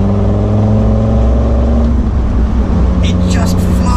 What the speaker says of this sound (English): That acceleration is so quick because the turbo lag is just gone.